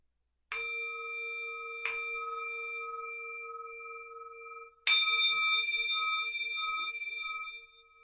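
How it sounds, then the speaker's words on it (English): A small bell is struck three times, each clear ding ringing out and slowly decaying in a quiet room, the third strike louder than the first two. "I'm getting to ding my bell."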